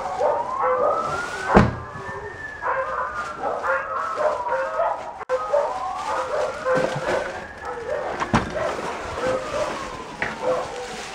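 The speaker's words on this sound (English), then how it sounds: "Dogs." Dogs in a home bark in repeated yips and let out high, wavering whimpers and whines, fairly close, with a sharp loud bark near the start and another later.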